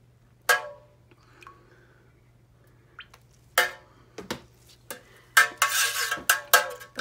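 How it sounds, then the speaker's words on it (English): Melted soy wax stirred in a pot for honeysuckle wooden-wick candles, sparse scraping clinks of a utensil against metal that grow into a quicker run of stirring scrapes, close and clear over a low hum. "I stir constantly simply because it helps to lower the oil"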